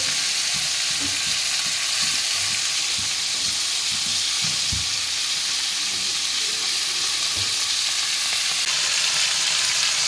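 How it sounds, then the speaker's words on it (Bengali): Vegetables sizzle in a hot pan while a utensil stirs them, producing scraping knocks over a constant frying hiss; no one speaks. "এদিকে সবজিটা ভাজা হচ্ছে"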